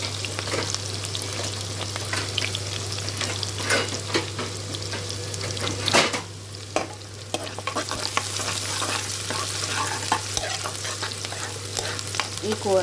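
Curry fries in a pan with a steady, close sizzle while a spoon stirs and scrapes through it in intermittent strokes, under a constant low hum.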